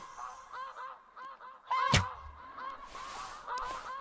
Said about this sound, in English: And we missed, and there is the goose.